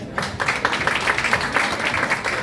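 A short burst of dense audience clapping welcomes Naik Deepchand at a ceremony honouring martyred soldiers' families, steady and fairly loud throughout.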